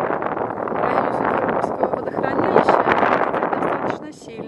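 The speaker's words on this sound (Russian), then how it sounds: "Больше всего меня интересует, как микрофон фильтрует ветер." Strong wind outdoors by ponds buffets the microphone with a continuous loud rumble and rustle, heard through the whole stretch.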